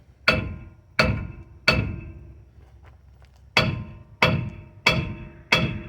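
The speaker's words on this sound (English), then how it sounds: "I'm gonna beat this thing." Seven loud hammer blows ring out on a seized brake drum of a Chevy P30 Grumman van chassis, three in quick succession, a short pause, then four more.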